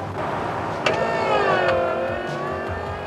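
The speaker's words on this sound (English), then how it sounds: "The noise you'll hear if you step on the brakes when the ignition is in the off position" Emergency backup system for the power brakes and steering on a 1988 U-Haul truck, run with the ignition off: a steady electric motor whine with rising tones and a brief thump, heard up close for about three seconds.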